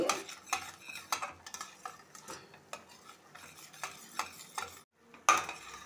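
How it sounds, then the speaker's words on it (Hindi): Spices roast in a pan for a jackfruit curry, a spoon stirring and scraping repeatedly with clinks of metal over a light sizzle, with a brief pause near the end before one more stroke. "अच्छी तरीके से मसालों को हम भून लेंगे।"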